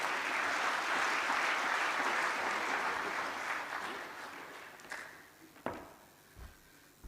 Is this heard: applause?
yes